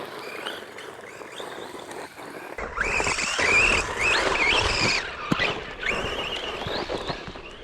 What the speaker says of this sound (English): That 3600 kV brushless motor does a great job.